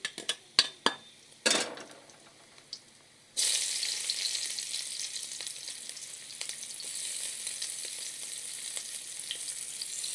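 Chopped onion dropped into hot oil with chillies for a child's Maggi noodles: a few sharp clinks, then a sudden loud, steady sizzle and crackle that carries on evenly for several seconds, close by, with no talking.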